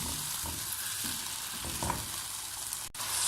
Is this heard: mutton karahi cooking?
yes